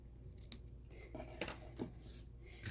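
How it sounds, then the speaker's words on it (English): Scissors snip off the ends of a ribbon tied around a handmade embossed card, a few quiet, crisp cuts heard up close against a faint background. "Snip off the ends."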